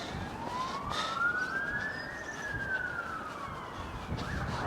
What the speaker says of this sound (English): Listen to the sirens in this sleepy village.